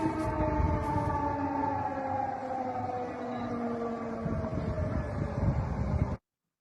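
An air raid siren in Poland wails steadily in the distance, its long sliding pitch rising and falling over wind noise, then cuts off abruptly.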